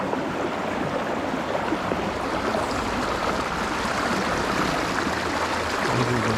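A creek flows with a steady, even rush and gurgle that stays constant throughout, close by and with no voices over it.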